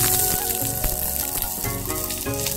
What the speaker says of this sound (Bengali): দেখো আমার বিনস ভাজা